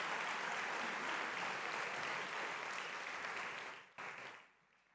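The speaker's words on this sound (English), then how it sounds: "Let's give him a round of applause, ladies and gentlemen." An audience at an evening program applauds, a dense, steady wash of many hands clapping that holds evenly and then quickly fades out near the end, with no voices over it.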